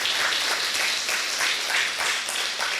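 Church congregation giving a steady round of applause during a sermon, with dense, sustained clapping filling the room at close range.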